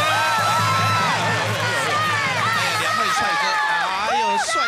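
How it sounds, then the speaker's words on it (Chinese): A studio audience at a Taiwanese television talent show cheers for a vocational high school group, with loud, sustained whooping and excited shouting from many voices, close and energetic throughout. "掌声鼓励！"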